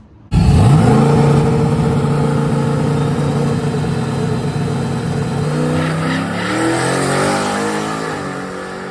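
A pickup truck launches hard at a drag strip, its engine roaring up loudly and steadily after a sudden start, with rising revs and a strained, continuous drone that carries to the end without any voices.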